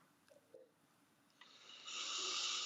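A loud, sharp intake of breath close to a studio microphone on a regional TV talk show swells into a strong airy hiss after faint handling noises.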